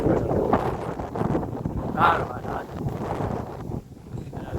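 Gusty wind buffets the microphone in uneven rumbling bursts, with faint rustling and a brief voice partway through.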